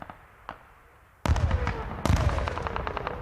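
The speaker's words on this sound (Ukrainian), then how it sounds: "час до часу і свистять снаряди, і вибухають тут" Heavy explosions and bursts of gunfire in a frontline war zone near Robotyne, with two sharp faint cracks early, then two loud booming blasts followed by dense, rattling small-arms fire and echoing reports.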